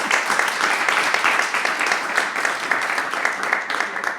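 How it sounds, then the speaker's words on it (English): Audience at a flamenco symposium on Paco de Lucía applauds in a steady, dense round of clapping, moderately loud and unbroken for several seconds. "I want to ask for a big round of applause"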